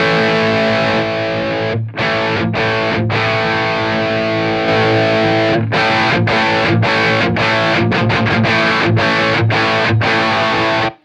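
Heavily distorted electric guitar through a Taurus SH7 Apogee floor amplifier with its boost turned to maximum, loud and saturated, sustained chords broken by short choppy palm-muted stabs and brief pauses.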